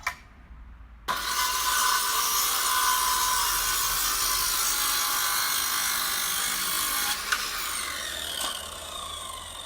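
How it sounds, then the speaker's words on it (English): A circular saw whines loudly and steadily through wood after a short quiet start, with a couple of brief jolts near the end. "He's now got a circular saw on the go."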